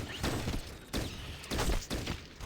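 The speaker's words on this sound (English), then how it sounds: "You can hear the rhythm of the gunfire." Rapid bursts of gunfire in the video game Fallout Tactics come in rhythmic clusters, loud and close, with short pauses between volleys.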